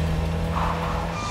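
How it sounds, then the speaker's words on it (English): Bessie, the Doctor's vintage yellow roadster, drives past with tires squealing, a loud, brief burst of engine drone and skidding rubber that holds steady for over a second. "The third Doctor was just driving along in Bessie when they nabbed him."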